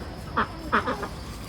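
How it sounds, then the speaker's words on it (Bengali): Ducks quack close by in a few short, nasal bursts, one call then a quick double, against quiet outdoor background. "আর এখানে যে আমাদের হাঁসগুলা দেখেন"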